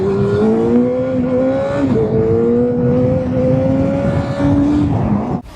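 A Yamaha FZ8 motorcycle under way, its engine note rising steadily through the gears with a brief dip at a shift, loud and close, cutting off sharply at the end.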